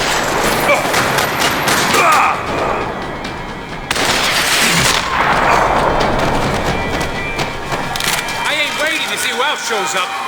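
Rapid bursts of gunfire ring out during a shootout in the video game Max Payne 3, loud and continuous, with shouted voices over the shots.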